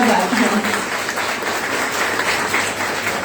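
Audience applause at an inauguration ceremony, a steady even patter of many hands clapping for guests, moderately loud and continuous, with faint voices underneath early on.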